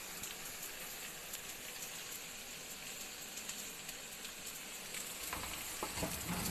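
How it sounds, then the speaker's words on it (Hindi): Ingredients for Chinese pulao fry over low heat in a pan, a quiet, even sizzle like light rain that grows slightly livelier and more crackly near the end. "और इसे हम थोड़ा फ्राई कर लेंगे।"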